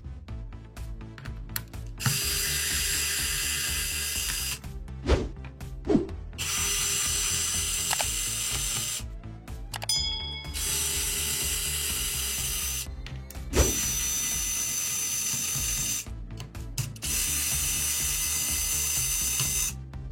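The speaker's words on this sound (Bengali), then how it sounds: "প্রায় সব স্ক্রুই খোলা শেষ।" Back-panel screws come out of a new Walton Prelude N41 Pro laptop in long, loud bursts of mechanical ratcheting whir. Brief pauses separate each screw, with no talk.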